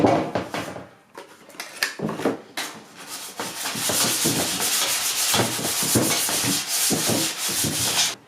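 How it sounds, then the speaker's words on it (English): Butter rubbed all over a baking pan by hand, giving close, loud, continuous rubbing and scraping friction in repeated strokes, steadier and denser in the second half, with no talking. "I'm just taking butter and rubbing it all over the pan."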